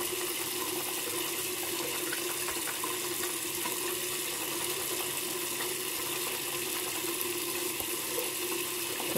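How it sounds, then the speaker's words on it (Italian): Water from a tap runs steadily into a shaving bowl as a razor shave is prepared, a soft, continuous splashing stream with no voices, lasting the whole stretch. "scorrere l'acqua."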